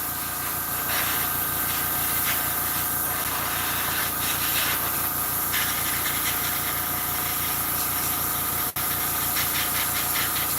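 An airbrush sprays paint with a steady, close, continuous hiss that holds for the whole stretch, broken only by a single sharp click near the end.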